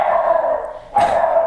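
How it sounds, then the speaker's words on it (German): A dog barks at visitors arriving at a house, giving a sustained howling bark and then a sharp louder bark close by, with no talk. "was unser Hund so macht, wenn wir Besuch kriegen"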